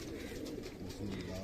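Pigeons coo in a low, steady murmur close by, a continuous soft rumbling layer with faint background voices.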